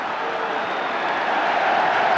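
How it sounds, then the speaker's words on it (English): Football crowd at a 1986-87 FA Cup match between QPR and Luton Town applauding a player, a steady, broad wash of clapping and crowd noise from a distance, continuous and fairly loud throughout. "And deserved the applause."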